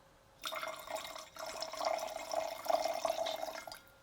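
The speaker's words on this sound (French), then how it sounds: "Vous ajoutez le jus de citronus pressé, le sirop de fraise, 2 centilitres de liqueur du professeur Marnier, le rhum embrasé" Cocktail ingredients (lemon juice, strawberry syrup, orange liqueur and flaming rum) are poured into a glass in a quiet, continuous trickle with brief pauses between pours.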